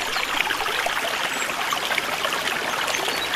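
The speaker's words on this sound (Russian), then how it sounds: "эти два ручья в итоге впадают в реку Псикупс" A mountain stream in the Dantovo Gorge near Goryachy Klyuch, flowing toward the Psekups River, rushes steadily and loudly with a constant dense gurgle and hiss and no pauses.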